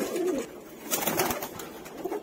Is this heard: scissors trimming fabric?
no